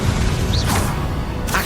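A spell-casting effect from the Hogwarts Legacy video game, the Expelliarmus disarming charm, bursts out as a dense, loud whooshing crash that holds steady for under two seconds.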